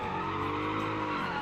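Tires of a GT car in BeamNG squeal steadily as the rear wheels lock up, a loud continuous skid with engine tone underneath, lasting the whole moment without speech.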